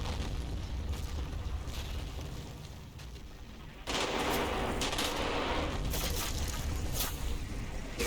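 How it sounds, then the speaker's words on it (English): Mortar shells burst in the Combat Mission World War II game at the Monte Cassino battle, a dense continuous roar of distant blasts and gunfire that dips briefly, then surges louder and stays heavy. "I also have mortars falling on Kelly and smoke."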